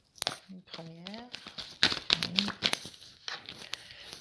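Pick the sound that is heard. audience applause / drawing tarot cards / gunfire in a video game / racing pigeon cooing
drawing tarot cards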